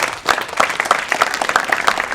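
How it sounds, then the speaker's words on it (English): Audience clapping in a hall, a short burst of scattered, moderately dense applause close by, with a faint voice underneath. "you all deserve a round of applause for the choices you made to be here"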